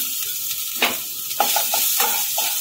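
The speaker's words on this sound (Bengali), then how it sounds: "তেল গরম হয়ে গেছে, এত কম তেল দিয়েছি তাই চোখেই দেখা যাচ্ছে না। আগে রসুন কুচিটা দিয়ে দিলাম" Chopped garlic sizzles in a small amount of hot oil for a vegetarian white sauce pasta, a steady close hiss broken by several light metallic scrapes and taps of a stirring utensil against the pan.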